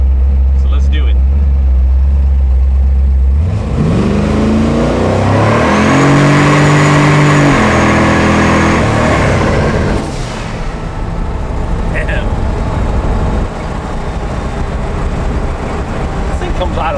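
An 1800 HP twin-turbo 1969 Chevelle launches from inside the cabin, a deep loud roar climbing through several gear pulls before easing off into lower road noise.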